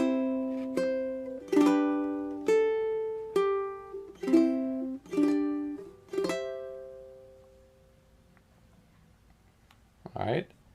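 Plucked ukulele notes ring out one by one in a slow, even fingerpicked pattern, close and clear, playing a bar of the hymn Praise God From Whom All Blessings Flow, ending with a brief rustle.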